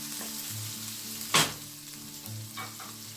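Ground pork fries in a pan until golden brown for pancit palabok, giving a steady close sizzle with a brief louder hiss and scrape as it is stirred midway.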